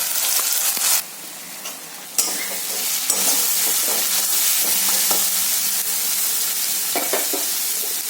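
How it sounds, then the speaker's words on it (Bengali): Ginger garlic paste frying with browned onions in a pan, loud close sizzling broken by a short quieter lull, then renewed crackle with several stirring scrapes and clinks, no speech. "পেঁয়াজটা দেখো আমার ভাজা হয়ে গেছে। এবার এর মধ্যে অ্যাড করবো আদা রসুন বাটা"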